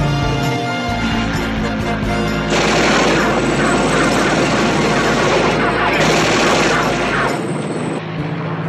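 A Bearcat aircraft's 20mm cannon fires in long, loud, rapid continuous bursts, a dense rattling roar over engine drone, close and dominant for several seconds.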